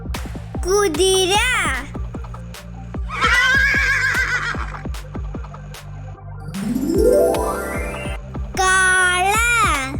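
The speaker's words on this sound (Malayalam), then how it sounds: "കുതിര" A horse gives four loud, close whinnies, each a rising and falling shrill neigh, separated by short gaps and backed by a steady rhythm of hoof clip-clops.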